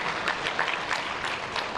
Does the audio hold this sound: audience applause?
yes